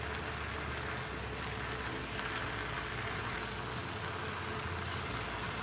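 A steady, dense sizzle of chicken and vegetables stir-frying in a hot wok for a spicy chicken hotpot, a loud, even hiss running throughout with no talk.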